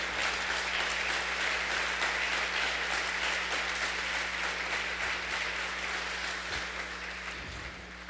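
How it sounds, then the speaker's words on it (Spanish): Congregation at a church conference on fatherhood claps together in sustained, dense applause, steady and loud for several seconds before easing slightly, with a low steady hum underneath. "Dale un aplauso a Dios si tú crees esto nuevamente."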